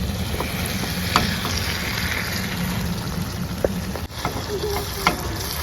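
Katla fish pieces simmering in a pan, giving a steady dense bubbling sizzle up close with occasional soft knocks, and no speech.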